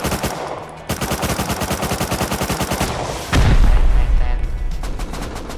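Rapid automatic gunfire from the video game Rust rattles in a steady, loud burst, then gives way to heavier booming shots and a low rumble, with a voice faintly speaking over the shooting.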